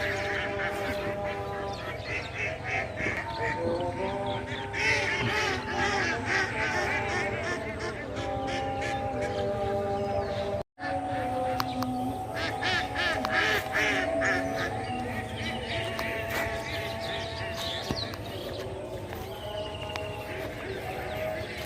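Ducks at a duck farm quack in a continuous, overlapping chorus of nasal calls, with a person talking now and then through the flock.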